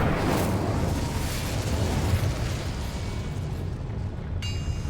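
Incendio fire spell cast in Hogwarts Legacy, a dense rumbling, roaring burst of flame that fills the clip loudly and steadily, with a faint chime-like shimmer rising at the very end.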